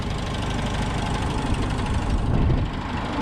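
A 1949 Farmall C tractor engine idling just after a cold start, a loud, steady, close rumble with a knocking pulse throughout and no voices.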